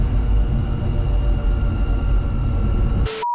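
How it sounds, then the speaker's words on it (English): Steady droning engine and drivetrain whine with rumbling road noise from inside a moving 4WD kei truck, loud and continuous, cutting off abruptly near the end. "You can kind of hear the whine."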